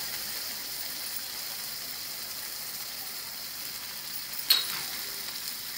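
Dry spice masala sautéing in a hot pan for a matki (moth bean) curry gives a steady close sizzle throughout, with one brief sharp scrape or clink near the end and no speech.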